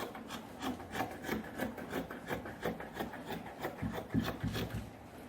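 Fabric being trimmed for a batwing-sleeve kaftan, a soft steady rubbing and scraping texture with a quick repeating rhythm, close and faint, with no talking.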